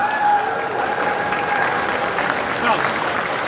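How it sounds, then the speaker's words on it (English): Steady applause from a crowd at a charity preview ribbon-cutting ceremony, even clapping throughout with faint voices mixed in. "Please give Scott and Rich a round of applause."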